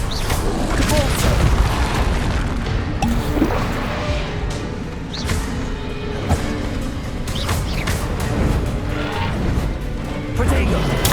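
Bombarda and Confringo spells burst in Hogwarts Legacy combat, a dense run of loud booms and crashing impacts scattered through busy game sounds, with spoken spell incantations layered over them.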